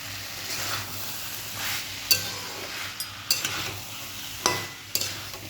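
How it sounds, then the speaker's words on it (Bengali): Boiled potatoes and peas sautéing in a pan for Bengali-style ghugni, a steady sizzle broken by several sharp scrapes and stirs of a spatula, close and fairly loud, with no talking. "এইভাবে কিছুক্ষণ কষিয়ে নেব।"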